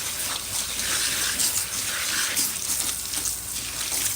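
Water runs from a tap over hair during rinsing, a continuous splashing gush that pulses slightly as the flow is moved, close and moderately loud.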